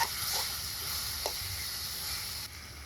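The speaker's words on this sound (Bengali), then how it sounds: "ফোড়নের তেলে মাখানো মাংস ঢেলে দিচ্ছি" Marinated chicken hits hot tempering oil with a short burst of sizzle, then a steady faint frying hiss continues close by.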